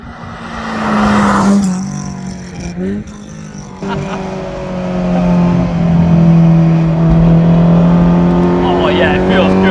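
Supercharged Honda S2000 with an HKS supercharger, heard from inside. The engine revs loud and close with a steady supercharger whine, gear changes drop the pitch and short flutter bursts come in between. Voices talk over it.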